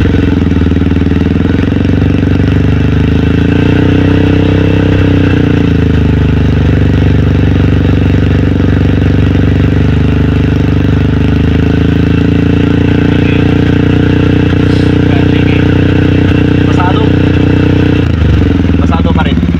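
A motorcycle fitted with an Akrapovic aftermarket muffler held at about 3,000 RPM, a loud, close, continuous exhaust drone with a slight dip and recovery midway and some mechanical clatter, undergoing a decibel test.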